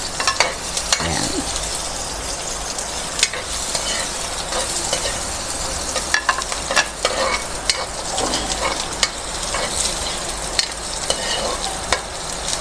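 Garlic and onion sautéing in a pan as the start of Bicol Express, a loud, continuous sizzle punctuated by frequent sharp scrapes and taps of a spoon stirring close by.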